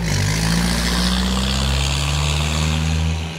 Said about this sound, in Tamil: இந்த ஜீப்பில் தான் இப்போ ஜீப் சவுண்டு கேட்டது பாருங்கள்.